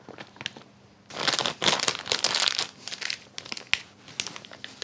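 Plastic piping bag filled with cannelloni stuffing being handled and cut, loud crinkling and rustling bursts that start after a quiet second and continue in bouts, with no speech.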